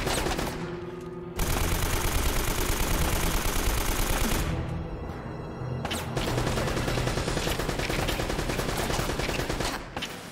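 Sustained automatic gunfire in Uncharted: Drake's Fortune, loud and continuous bursts of rapid shots that run through most of the stretch with only short breaks between them.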